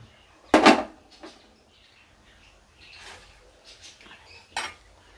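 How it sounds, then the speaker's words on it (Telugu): A metal pan set down on a stove in a home kitchen, making one clear clattering knock followed by a few faint clinks and light handling noises. "స్టవ్ ఆన్ చేసుకొని ప్యాన్ పెట్టుకుందాం."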